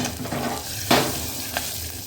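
A spatula stirs ground paste into hot oil tempered with slit green chillies and curry leaves for tomato saar, with steady sizzling, a couple of louder scrapes and no talking.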